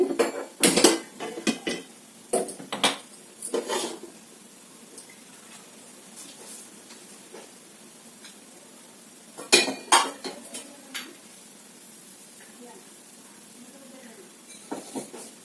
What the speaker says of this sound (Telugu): ఇప్పుడైతే బాండ్లీ పెట్టేసుకోండి